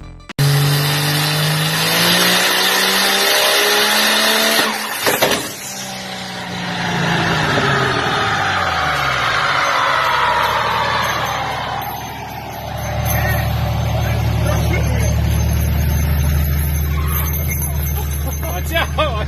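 A Porsche's engine revs loud and strained while the car pulls a wheelie, the roar rising and falling over about twenty seconds with a sharp burst midway, backed by other engine and crowd noise, with voices talking over it.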